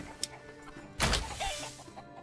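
Chickens clucking in the village of the medieval city-building game Manor Lords, a short sparse burst of clucks and a squawk at close range with no talk.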